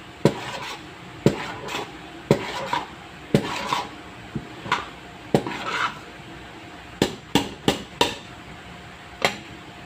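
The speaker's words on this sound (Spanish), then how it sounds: "Muy pendiente de estarlo revolviendo." A utensil scraping and knocking against a pot while stirring a sweet of white beans and coconut, with repeated sharp knocks and rubbing strokes at an uneven rhythm, close and fairly loud.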